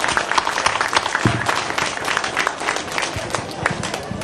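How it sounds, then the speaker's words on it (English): An outdoor festival martial arts demo crowd applauds a student who has just earned her black belt, brisk uneven clapping mixed with crowd noise and some voices. "give her a round of applause"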